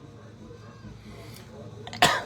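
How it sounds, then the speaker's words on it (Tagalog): A single sharp, loud cough bursts out near the end after a stretch of quiet room noise, close to the microphone. "Grabe na ubo ko."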